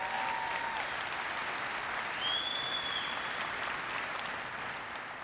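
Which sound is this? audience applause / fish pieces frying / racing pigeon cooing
audience applause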